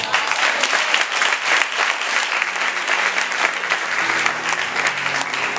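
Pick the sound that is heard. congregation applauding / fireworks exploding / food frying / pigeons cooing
congregation applauding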